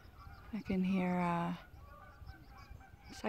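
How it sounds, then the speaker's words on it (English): Geese honk loudly in a single sustained burst of harmonic calls outdoors near rock formations by a lake and waterfall in Idaho, followed by quieter ambient noise and a faint later honk. "it's like geese."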